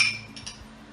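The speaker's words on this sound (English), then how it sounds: "we're gonna add about half a teaspoon of salt" A metal teaspoon gives a bright clink against a container while salt is added to a homemade toothpaste mixture, followed by faint scraping; close and quiet.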